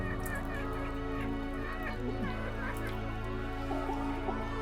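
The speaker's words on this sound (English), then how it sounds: "there is a hen trapped underneath" A distressed hen trapped under a motor in a free-range egg farm shed: faint, scattered clucks and squawks from many birds over a constant low mechanical hum.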